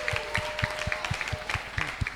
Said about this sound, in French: Donc, le frère, Madame Piola, sous vos acclamations, s'il vous plaît